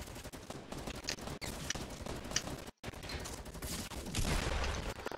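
Gunfire in Fortnite Battle Royale, including shotguns and burst rounds, crackles in dense, continuous volleys at steady loudness, broken by one brief dropout and rising to a harsher, louder barrage near the end.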